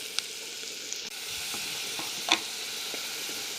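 Fish curry with bamboo shoot sizzles in a pan, a soft, steady frying hiss broken by a few light clicks and one sharper utensil scrape partway through.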